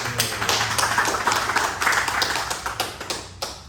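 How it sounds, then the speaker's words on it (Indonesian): An audience at a corporate meeting of Jasa Raharja's North Sumatra branch claps, producing a moderate, uneven patter of many hands close by for nearly four seconds with no speech over it. "Ya saya kira perlu kita tepuk tangan."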